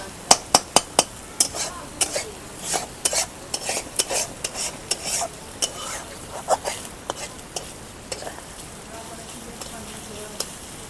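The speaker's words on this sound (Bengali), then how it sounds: "মাছের ডিমগুলো আমি আইলে আইলে ভাজতেছি" Fish roe frying in a pan, a steady sizzle under repeated sharp taps and scrapes of a utensil against the metal, close and fairly quiet, with a voice talking briefly.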